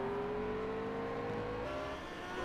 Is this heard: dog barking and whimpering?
no